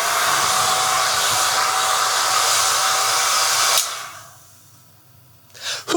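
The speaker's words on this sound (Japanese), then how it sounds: "至って普通のドライヤーでございます" An ordinary hair dryer at a Japanese net café blows steadily at normal airflow for almost four seconds, then switches off. Near the end come a faint rustle and a short breathy burst.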